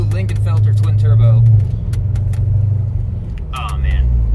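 A Corvette rumbles from inside the cabin as a steady, low engine drone, with someone talking loudly over it throughout.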